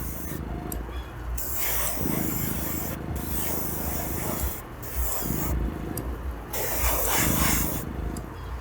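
A spray can lays 2K clear coat onto a diecast model in repeated hissing bursts, each pass a steady close rush of spray separated by brief pauses, with faint rubbing noises between.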